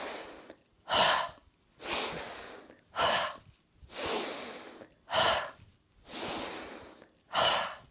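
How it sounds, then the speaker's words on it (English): Deep qigong breathing: slow, audible inhales and exhales alternating in a steady rhythm, each breath a broad airy rush, close and clear with no talking. "Inhaling, exhaling."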